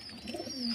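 Caged domestic pigeons give a soft, low, brief coo, faint and close.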